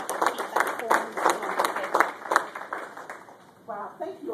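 Audience applause after a talk at a tech education event on keeping information private, a steady patter of claps filling the room, with a voice joining in near the end.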